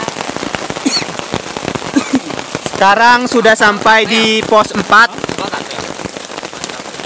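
Steady rain hisses and patters at post 4 on Mount Ciremai, spattering close to the microphone throughout while someone speaks over it partway through.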